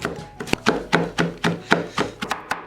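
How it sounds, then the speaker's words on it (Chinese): A knife chops soaked glass noodles on a board into fine bits: about a dozen sharp, evenly spaced strikes in a quick steady rhythm, close and clear with no talking. "把粉条也切成末"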